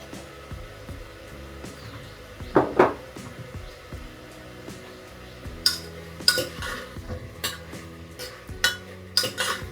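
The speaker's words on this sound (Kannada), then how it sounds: "ಒಂದು ಸ್ವಲ್ಪ ಮಿಕ್ಸ್ ಮಾಡಿ" Mutton with turmeric is stirred in a pot, giving scattered metallic scrapes and clinks of a utensil against the pot, some sharp and close, at an uneven rhythm with no talk.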